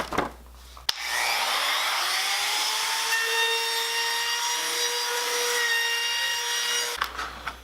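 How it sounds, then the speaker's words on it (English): A high-pitched router with a 1/4 inch bit whines steadily as it rounds over wood edges for about six seconds, starting and stopping abruptly, loud and close. "I'm going to use a router with a little 1/4 inch bit to round over the edges"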